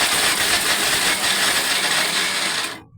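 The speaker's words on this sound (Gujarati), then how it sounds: "હવે મિક્સરમાં પીસી નાખીએ." A mixer grinder crushes roasted, crisped food into powder, giving a loud, steady whirring roar that runs for nearly three seconds and then cuts off abruptly, with no voices.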